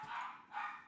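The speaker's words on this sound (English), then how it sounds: "I have 8 dogs. 4 of them are barking downstairs." Four dogs bark together downstairs in a house, sounding muffled and distant, in two faint excited bursts.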